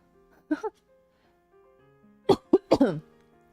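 A person at home coughs three times: one short double cough, a pause, then a louder burst of three rough coughs close to the microphone.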